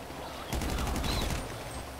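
Grand Theft Auto V gameplay gunfire: a quick burst of rapid shots lasts about a second, moderately loud over a steady background of game ambience, and no one speaks.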